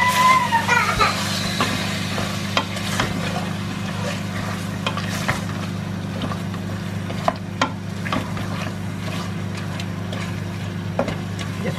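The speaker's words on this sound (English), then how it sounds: "Just fry it for a few minutes." Ginger and garlic paste frying in a home kitchen pan, a steady soft sizzle running underneath with occasional stirring scrapes and clinks, while children's voices and talk carry faintly in the background.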